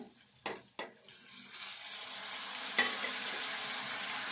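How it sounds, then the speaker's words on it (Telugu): Tomatoes dropped into hot oil with chana dal, two sharp splashy hits followed by a rising, steady sizzle and a brief clink, close and fairly quiet, with no speech. "ఈ నూనెలా ఇప్పుడు టమాటా వేసుకుందాము"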